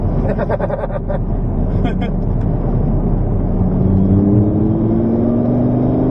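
A sports car, a Lamborghini Gallardo or Ferrari F430, accelerates on a race circuit, its engine droning steadily and rising in pitch as revs build, heard from inside under people talking.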